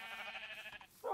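A sheep in the Minecraft video game bleats once in a sustained, wavering cry, close and clear, ending in a brief higher sound.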